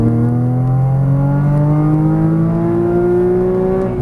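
A Porsche Cayman GTS accelerates hard on a racetrack. Its loud engine note climbs steadily through the revs, close by and dominant, with no talking over it.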